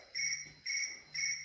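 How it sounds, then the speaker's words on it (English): Crickets chirp in three evenly spaced bursts, a high, steady trilling close by against a quiet background. "Ah, the crickets."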